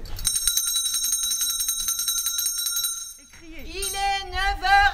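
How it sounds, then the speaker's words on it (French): A hand-rung bell on a night watchman's tour in Sarre-Union sounds in a fast run of bright, even strikes for about three seconds, then a voice calls out loudly in a sing-song manner. "Est-ce que quelqu'un veut bien sonner la cloche?"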